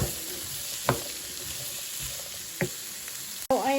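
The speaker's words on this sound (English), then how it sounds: "Going to kind of caramelize these vegetables." Vegetables caramelize in a skillet with a soft, continuous sizzle, broken by a few brief scraping or stirring clicks and a sharp knock near the end.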